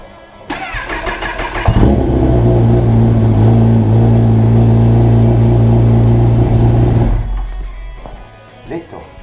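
A car engine cranks briefly, then catches and runs at a steady, loud idle nearby for about five seconds before shutting off, with faint clatter afterward.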